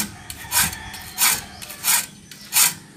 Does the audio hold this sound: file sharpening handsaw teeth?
yes